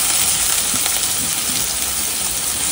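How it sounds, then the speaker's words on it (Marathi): Chopped green chillies and capsicum sautéing in a pan, a steady close sizzle and hiss with faint stirring scrapes throughout, no voices. "आणि तर हे आपण जरा छान परतून घेऊया"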